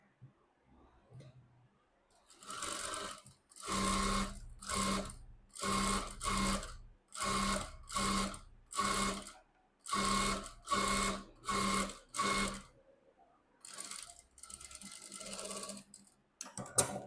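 A sewing machine stitches the back neck design of a blouse, running in a series of short, even rhythmic bursts separated by brief pauses, fairly close and without talk over the stitching.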